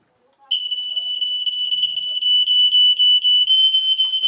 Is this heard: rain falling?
no